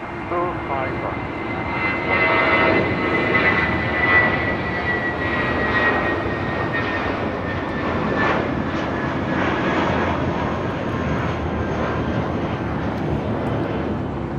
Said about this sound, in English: This is Spirit Airlines 1043 taking off to San Antonio on an A320.